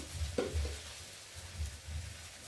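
Soft, steady sizzling of leafy greens frying in a pan, with a brief stir or scrape near the start, quiet and close.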